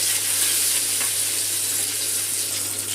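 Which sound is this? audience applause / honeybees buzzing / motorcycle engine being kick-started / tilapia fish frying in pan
tilapia fish frying in pan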